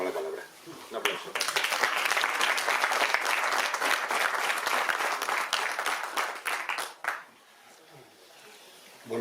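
An audience at an award ceremony in Losar de la Vera breaks into brisk applause that swells quickly, holds for several seconds, then tapers off into a few scattered claps and near quiet.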